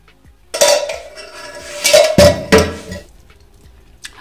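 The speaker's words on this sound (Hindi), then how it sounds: "तो चाय के लिए मैंने वही पैन धो लिया है, और अभी इसी में चाय पत्ती और चीनी डालेंगे" A washed pan clatters and clinks as tea leaves and sugar go into it for black tea, with several sharp metallic knocks and scrapes in a short burst before the kitchen falls quiet.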